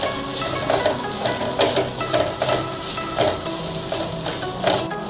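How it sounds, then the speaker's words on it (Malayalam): Chili powder is sautéed in a pan for tomato kurma, making a dense, even sizzle close by, with soft rhythmic stirring scrapes pulsing through it and no voices. "അതിൻ്റെ പച്ചമണം പോണ വരെ നല്ലപോലെ വഴറ്റാം."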